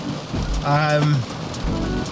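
Heavy rain falls steadily in Barcelona, Spain, a close, even hiss of drops on surfaces, with a brief voice-like tone rising over it midway.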